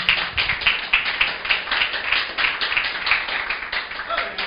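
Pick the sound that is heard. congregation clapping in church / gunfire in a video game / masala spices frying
congregation clapping in church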